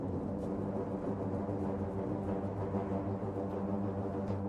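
A brass ensemble sustains dense, steady chords with single-tongued articulation, building a tense, continuous wall of sound at even loudness with no pauses.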